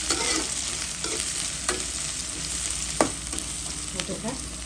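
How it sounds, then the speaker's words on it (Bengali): Panch phoron, bay leaf, dried and green chillies, onion and garlic fry in hot oil for a mashed raw banana vorta, with a continuous sizzle and several sharp spoon scrapes and clinks against the pan. "দিয়ে দিলাম পাঁচফোড়ন, তেজপাতা, শুকনো মরিচ, দিয়ে দিলাম কাঁচামরিচ, পেঁয়াজ, রসুন"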